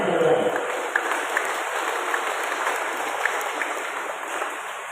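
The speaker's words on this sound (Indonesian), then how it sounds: "Kita tepukan sekali lagi." A congregation at a Mass in a parish church in Lengko Elar gives a round of applause, a steady wash of clapping from a crowd with faint voices underneath.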